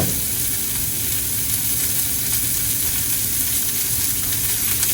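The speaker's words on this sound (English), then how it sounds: "While our vegetables are cooking" Vegetables stir-frying in a pan for a shrimp stir fry, giving a loud, dense, unbroken hissing sizzle that holds steady throughout, close up with no speech.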